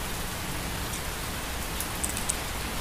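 Steady rain falls in an even, dense hiss, with faint scattered drop ticks standing out near the end, continuous and unbroken with no voices.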